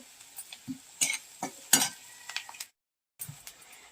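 Onion sautéed in a pan on a wood-fired stove, with soft sizzling and a series of scraping stirs and light utensil clinks, close, followed by a brief pause and one more stir.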